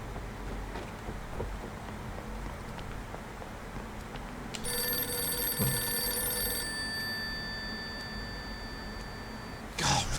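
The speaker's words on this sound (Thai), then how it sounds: "ผมควรลองโทรหาเขาจากโทรศัพท์ออฟฟิศนะ" An office telephone in the video game Deliver at All Costs rings with a steady electronic trill for a couple of seconds over quiet, hissy room tone, followed later by a brief louder sound.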